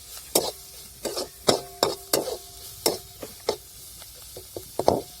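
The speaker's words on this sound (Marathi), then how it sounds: "मिरची परतल्यानंतर कोथंबीर आहे का टाकून द्यायची आपल्याला आणि कोथंबीर चांगली अशी परतून घ्यायची" Chili and coriander being stir-fried in a pan: a spatula scrapes and knocks against the metal in an irregular series of sharp, close taps, with a faint sizzle between strokes.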